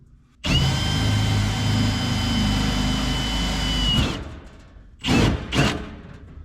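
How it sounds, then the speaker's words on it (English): A power drill whirs steadily at close range for several seconds while drilling an interior panel on a 1951 Ford, then stops, followed by two short bursts of the motor. "I'm gonna have to try and hold this and drill it."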